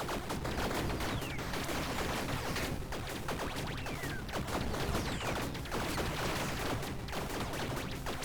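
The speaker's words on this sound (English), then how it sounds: "So many explosions!" Explosions in the Tiny Rogues video game go off in a relentless, overlapping barrage of rapid booming and crackling bursts, loud and continuous throughout.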